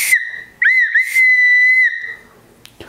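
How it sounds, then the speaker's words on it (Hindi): A toy whistle from an army role-play set is blown in two shrill bursts, the second held longer with a wavering start, loud and close, then it stops and faint handling noise follows. "और इसके साथ एक विसल भी आई है।"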